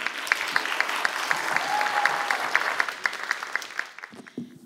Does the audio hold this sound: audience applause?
yes